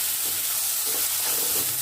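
Vegetables for Hakka noodles stir-fry in a hot pan, a constant close hissing sizzle with faint stirring movement underneath and no voices.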